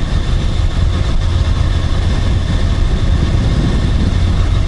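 A Yamaha FZR1000 motorcycle engine drones steadily during a night ride on a Japanese highway, a loud, continuous low rumble with wind noise throughout and no speech.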